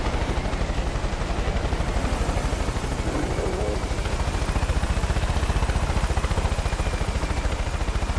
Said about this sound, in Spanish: un helicóptero nos va a atacar